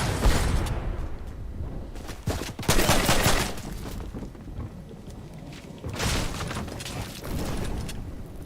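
Rifle gunfire in the Fortnite video game: loud bursts of rapid shots cluster around two to three seconds, with another volley near six seconds and scattered shots throughout, heard alone without talk.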